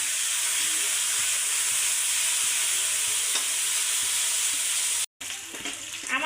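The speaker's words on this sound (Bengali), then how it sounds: "আমি একটু চিকেনগুলো ভালো করে ভেজে নেব" Chicken pieces frying in a pan, a loud continuous close sizzle filling the clip, with a brief cut and then stirring and sizzling resuming.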